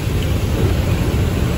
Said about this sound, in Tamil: செம்ம காட்டு காட்டுது மழை வெளியில்